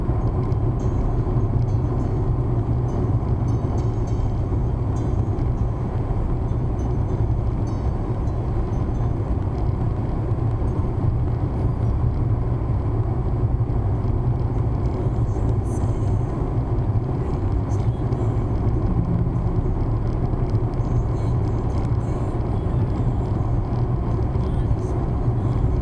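A car cruising at about 120 km/h in fifth gear, around 3,100 rpm, on a Brazilian highway makes a steady low engine drone and road rumble, heard from inside the cabin with someone talking over it.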